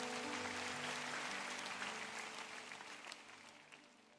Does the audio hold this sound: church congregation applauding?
yes